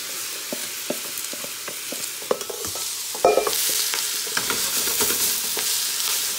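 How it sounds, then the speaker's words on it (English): Vegetables for a classic chicken soup are stirred in a hot pot: a run of scraping spoon strokes over a soft frying sizzle, with a louder clatter midway and no talk. "Give that a good stir."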